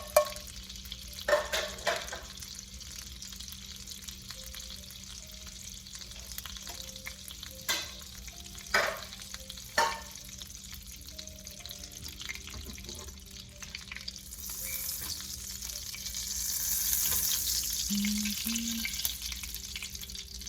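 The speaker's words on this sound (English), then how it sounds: "And then we're gonna cook the apples" Apples frying in a pan while being cooked for apple-stuffed pork chops: a steady sizzle with a few sharp utensil clicks and stirring scrapes, building to a louder, hissing fry near the end, with no talking.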